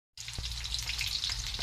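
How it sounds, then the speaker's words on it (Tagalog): Tuna fish frying in hot oil gives a loud, steady sizzle that starts abruptly and continues without pause, with faint popping underneath. "Iprituin mo natin itong fish tuna guys."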